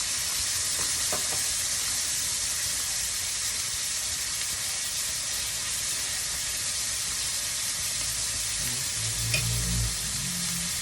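Chunks of pork sizzling in a pan for sizzling gising gising, a loud, dense, continuous hiss that holds steady throughout, with a brief low thump and clatter near the end.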